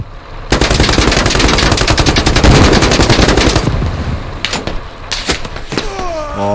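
Sustained automatic gunfire in the military shooter game Squad, a loud rapid machine-gun burst lasting several seconds, then a few scattered single shots.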